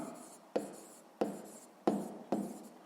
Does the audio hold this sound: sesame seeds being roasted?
no